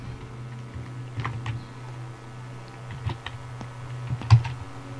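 Text being typed on a computer keyboard, with sparse, irregular key clicks close by over a low steady hum, and no talk.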